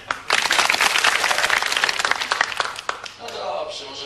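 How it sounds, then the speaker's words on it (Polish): Inserted applause on a Polish talk show: a burst of many hands clapping, loud and dense, that thins out and fades near the end. "I teraz proszę aplauz."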